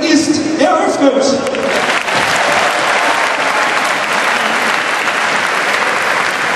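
Loud stadium crowd applause erupts at the opening ceremony of Stadion Essen, a dense roar of clapping and cheering that swells after a brief moment of other sound and holds steady to the end.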